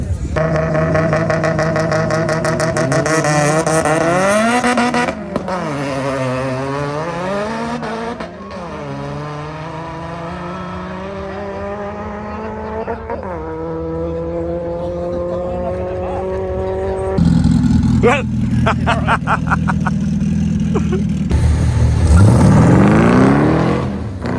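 A small red Vauxhall Corsa B races at a Scottish drag strip, its engine screaming loudly up through gear after gear in rising sweeps, with a brief drop between shifts and a harsh close roar near the end.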